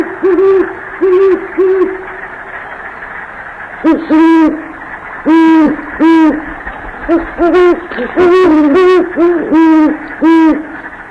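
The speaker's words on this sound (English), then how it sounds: "the great horned will sing at night" A pair of great horned owls hooting in a duet at night, the male higher-pitched and the female lower, trading clear rhythmic series of deep hoots, close and loud, with no talking.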